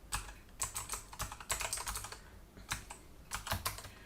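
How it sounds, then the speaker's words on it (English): Fast typing on a computer keyboard during a programming lesson: dense bursts of close, clicky keystrokes with short pauses between runs. "dang, I can't type today."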